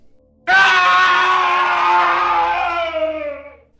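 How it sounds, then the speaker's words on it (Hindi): A boy screams in a long, loud, sustained cry with a wavering pitch, heard alone as a horror sound effect in a ghost story set in a neighbouring room. "मेरे बगल वाले कमरे से उसी मुस्लिम लड़के के चिल्लाने की आवाज़ें आने लगीं।"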